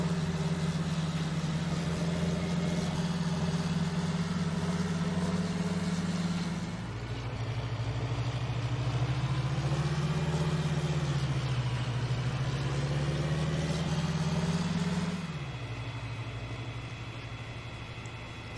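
Tractor engine in Farming Simulator 19 hauling a trailer loaded with soy straw across a field, a steady low drone that dips and swells in pitch as it turns, running alone throughout.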